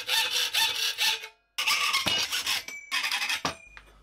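Close, rasping hand saw strokes in rapid rhythmic bursts while building a bicycle camper trailer, in three runs broken by short pauses.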